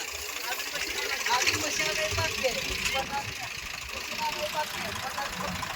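A tractor engine idling on a muddy rain-soaked farm with a low, steady rumble and knock, nearby, while people talk over it.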